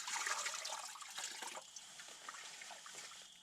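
Water being poured into a pot outdoors in northern Alberta, a close splashing trickle that is strongest at the start and tapers into lighter dribbling.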